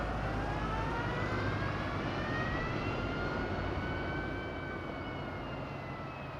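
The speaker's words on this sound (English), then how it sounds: "Last landing for us today, and maybe the takeoff of this aircraft." A Wizz Air airliner landing at Madeira airport gives a loud, steady jet roar with whining engine tones that rise and drift, easing slightly toward the end, with no voices over it.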